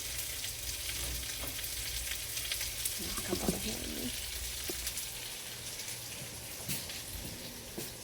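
Onions and celery cook in a pot for rooster and dumplings, giving a steady, even frying sizzle that runs throughout at moderate loudness, with a few faint clinks and stirring noises near the middle.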